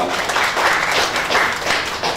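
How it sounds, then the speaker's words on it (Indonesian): An audience at a persuasion seminar bursts into applause, a loud, dense wash of clapping that swells in uneven waves for a couple of seconds. "Tepuk tangan dulu dong buat beliau."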